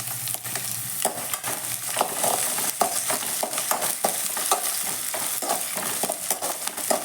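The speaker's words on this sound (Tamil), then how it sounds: "வெங்காயம் வதங்கிருச்சு இப்போ பூண்டு போட்டுக்கலாம் இஞ்சி போட்டுக்கலாம் வத்தல் போட்டுக்கலாம்" Onion, garlic, ginger and dried red chillies fry in a pan for paneer butter masala, a steady close sizzle broken by repeated scraping stirs with a spoon, with no voices.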